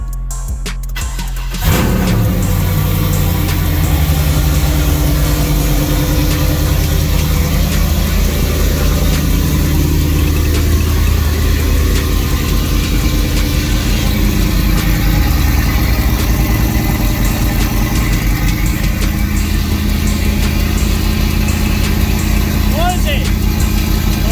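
A car engine starts and settles into a steady, loud, rumbling idle through a throaty full 3-inch pie-cut stainless exhaust, continuous and close.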